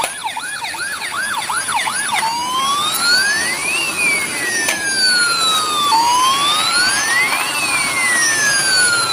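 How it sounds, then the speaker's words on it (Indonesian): An ambulance siren wails loud and close, starting with rapid yelping sweeps and shifting into slow rising and falling wails that continue steadily with no talk. "Wow, ternyata di sini ada mobil ambulan."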